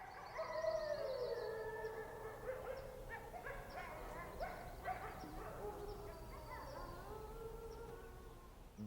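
A wild wolf howls from a distant lakeshore at night, its long, wavering tones rising and falling faintly over a quiet background, with no talking.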